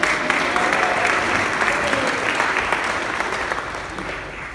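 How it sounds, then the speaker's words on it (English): Audience applause fills a health center grand opening ceremony in Tucson, a steady dense clapping from a sizable crowd that holds throughout and tapers slightly at the end. "Give him a round of applause."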